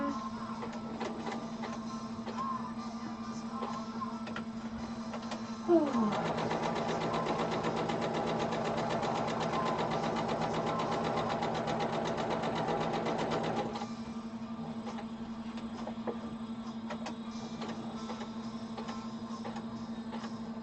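A sewing machine runs a locking stitch: a rapid, even mechanical chatter starts abruptly, holds steady for about eight seconds, then stops, leaving a constant low motor hum throughout.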